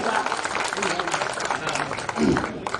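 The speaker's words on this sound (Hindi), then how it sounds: "और एक बार तालियां, एक बार और" Audience applause at a Hindi comedy poetry show, a steady wash of clapping throughout, with some talk underneath.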